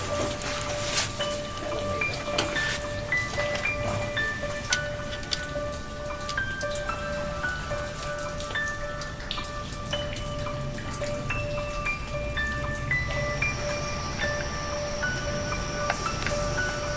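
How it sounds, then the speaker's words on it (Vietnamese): Rain falls steadily in a mountain rainforest near a camp shelter, a dense continuous patter with scattered closer drips and taps, joined by faint sustained tones from insects or birds, with no talking. "trời bắt đầu mưa"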